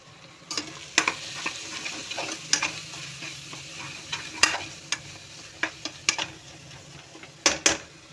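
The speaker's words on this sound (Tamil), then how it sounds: "உங்களுக்கு நான் மிக்ஸ் பண்ணி காட்டுறேன் எப்படி இருக்கு" Mutton curry is stirred in a pot over low heat: a faint, steady simmering sizzle with irregular sharp knocks and scrapes of a spoon against the metal, heard alone.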